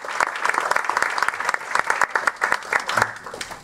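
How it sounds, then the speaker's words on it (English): An audience at a town meeting claps for a group of young volunteers, producing a short burst of uneven, fairly close hand claps from a modest crowd that holds for a few seconds. "So let's all just give a clap for all those young guys."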